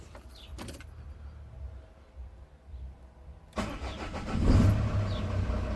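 A van's engine starting after a full service and a new airflow meter: a brief click and rattle, quiet pause, then the starter catches and the motor fires up and settles into a steady idle nearby.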